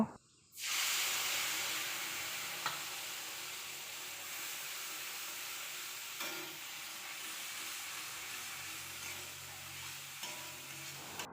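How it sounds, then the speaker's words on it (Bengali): Ground spice paste with fenugreek hitting hot oil in a wok, a sudden loud sizzle after a brief silence that settles into a steady close hiss, with a few soft stirring clicks. "মেথি ফোড়ন দিয়ে মশলা বাটাটা দিয়ে ভালো করে ভেজে নেব"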